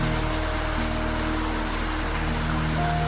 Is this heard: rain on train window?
yes